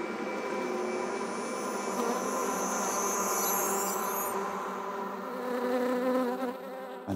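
Honeybees buzzing in a close, continuous drone, with several wings whining at slightly different pitches and one passing nearby, steady and fairly quiet throughout.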